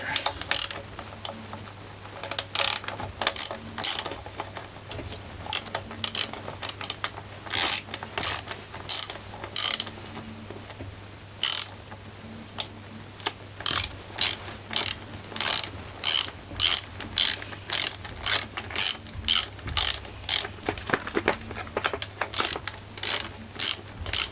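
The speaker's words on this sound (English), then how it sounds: "So 10 millimeters wrench in here." A 10 mm ratchet wrench works on a Greppa GC950DC 720W generator, giving rapid clicking pawl bursts in repeated strokes, close and loud over a steady low hum, with no talk.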